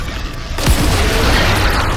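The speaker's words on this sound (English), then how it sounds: "Oh, it's a grenade launcher. Cool." A grenade launcher blast in the Dead Space Remake game: one loud, low boom with a rumbling, debris-filled tail that stays dense and loud afterward, with no speech over it.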